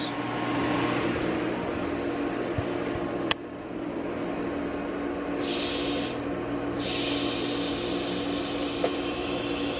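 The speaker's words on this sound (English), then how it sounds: "That's the post flow. So when you let off the pedal, I'm not even on the pedal right now, it flows gas to cool the weld." TIG welder shielding gas post flow after welding titanium exhaust pipe, a steady soft hiss with a faint hum running throughout, close and fairly even, no talk.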